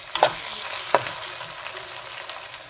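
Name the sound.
blended ginger and garlic sizzling in pan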